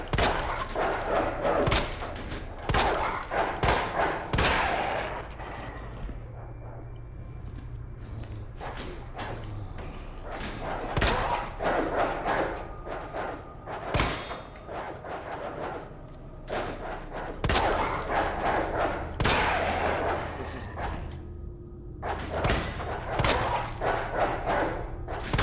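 Gunfire in the video game Resident Evil 2: loud, sharp shots ring out in irregular bursts, with brief quieter gaps of low ambience between volleys.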